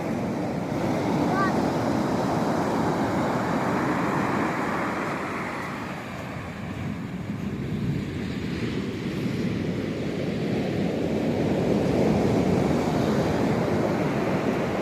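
Waves and wind roll in on the New Zealand coast as a continuous broadband wash, swelling and easing, with gusty rumble throughout and a voice talking faintly over it.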